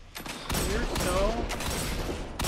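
Shotgun blasts in a video game firefight, a few heavy reports spaced through a short busy stretch, with game noise and a voice underneath.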